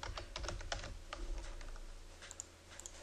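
Quick, uneven keystrokes on a computer keyboard as a username is typed, close and fairly quiet, with clusters of taps and short pauses over a low background hum.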